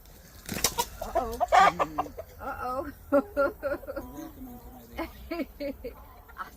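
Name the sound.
roosters clucking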